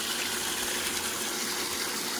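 Water gushes steadily into a stock tank pool filled from a hose, a loud, continuous broadband rush with no pauses or other sounds.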